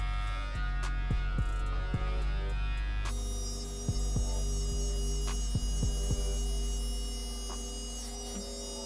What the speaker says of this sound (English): You're literally just laying the clipper over.